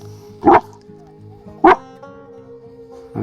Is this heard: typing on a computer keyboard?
no